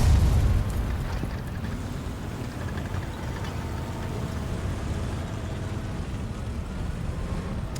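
Rumbling tank-battle sounds from a video game with a Panzer IV, starting with a loud booming blast and then a steady, dense low roar of engine and gunfire, with no speech.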